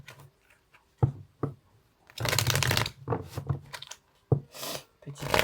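A deck of tarot cards is shuffled and cut at close range, with sharp taps and flicks, a long riffling burst in the middle, and more card slaps afterward, under a few quiet spoken words.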